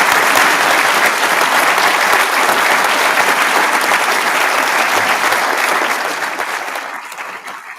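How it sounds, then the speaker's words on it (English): Sustained loud applause from a large audience at a graduation ceremony, steady dense clapping that gradually fades toward the end. "There is a huge amount of clapping in graduation ceremonies for some reason."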